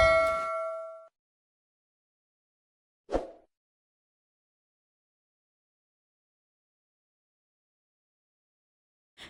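A bright ringing chime fades out, then a single short ding follows after a pause, with silence between and a faint click at the end.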